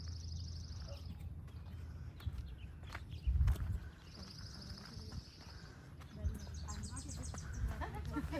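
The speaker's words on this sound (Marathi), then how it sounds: "या साईडला खूप घनदाट झाडी आहे आणि पक्ष्यांचा किलबिलाट ऐकायला येतोय" Birdsong chirps and twitters on and off from dense trees on a hiking trail in the USA, fairly distant, over a low steady background rumble.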